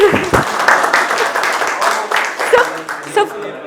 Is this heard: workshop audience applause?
yes